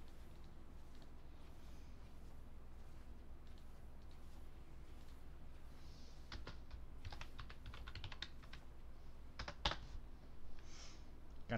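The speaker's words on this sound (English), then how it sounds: "Got this keyboard and it keeps screwing up." Keys on a computer keyboard being typed on, a steady stream of soft clicks with denser bursts of rapid strokes in the second half, close up over a low constant background hum, with no talking.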